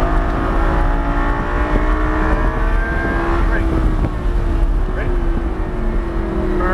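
A Lamborghini Gallardo LP560-4 accelerating on a track, heard from inside as a loud, steady engine roar that rises in pitch with wind noise, while a voice speaks over it.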